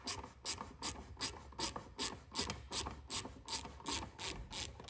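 A ratchet with an 11 mm socket clicks in a steady rhythm, about a dozen quick close strokes, while undoing a bolt on a Ford Explorer turn signal and reverse light, heard alone without speech.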